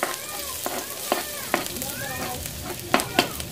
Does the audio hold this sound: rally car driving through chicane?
no